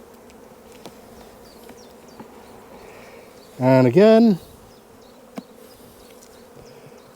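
At an open honey bee hive during an inspection, a single loud buzz swells and falls for under a second as a bee passes close. The hive hums faintly around it, with a few soft knocks and a brief spoken phrase.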